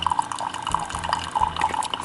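Hot water poured for matcha green tea trickles and splashes steadily into a cup, close and fairly loud with small bubbling drips, and no talking over it.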